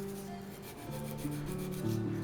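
Sandpaper rubs across wooden scales for a handmade bushcraft knife in close, steady scraping strokes, with a humming tone running underneath.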